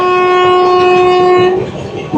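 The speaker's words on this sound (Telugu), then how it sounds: "ఇక్కడే ట్రైన్ ఉంది, చూద్దాం." A train at a station on the Secunderabad to Repalle route sounds a loud, sustained horn that dominates the first moments and then fades, leaving rumbling rail noise before a brief second horn blast.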